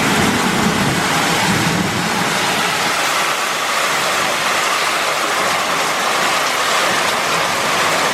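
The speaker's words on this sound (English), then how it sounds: "Yeah, we got some good rain." Heavy rain pours steadily onto a flooding neighborhood street in Angeles City, Philippines, at the start of rainy season, a loud, dense, unbroken roar of falling water close by with no talk.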